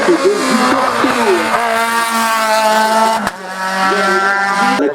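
Renault Clio F2.3 race car at the 61st La Pommeraye hill climb, its engine screaming loudly at high revs through a near pass, with a brief dip as it shifts gear, then pulling hard again.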